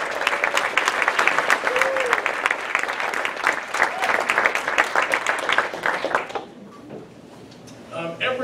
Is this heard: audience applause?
yes